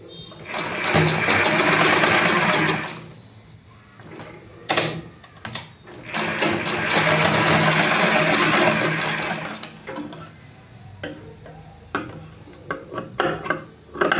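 A sewing machine stitching fabric in two sustained runs of rapid mechanical clatter, with quieter handling knocks and clicks between and after the bursts.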